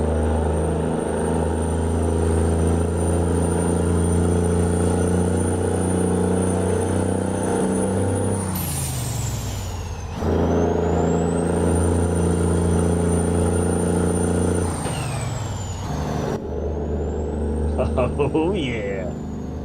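Kenworth Legacy truck engine in American Truck Simulator: a loud, steady, harmonic diesel drone that climbs in pitch, drops sharply at two gear changes and then builds again.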